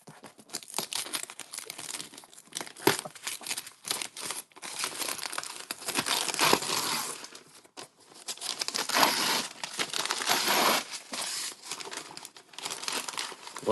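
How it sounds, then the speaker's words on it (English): Foil packs of baseball cards are torn and ripped open, with bursts of loud crinkling and tearing in uneven clusters and short pauses between them, close up and without speech. "So let's start ripping them open."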